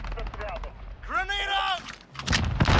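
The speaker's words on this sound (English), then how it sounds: "Flash out!" Call of Duty Modern Warfare match: a flashbang grenade goes off among sharp gunfire bursts, with a shouted voice and game chatter over the loud, busy battle noise.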